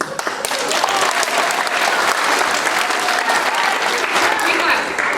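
A school awards assembly crowd claps together in loud sustained applause for a class, dense and continuous, with voices mixed in.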